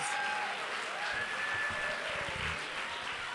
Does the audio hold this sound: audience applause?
yes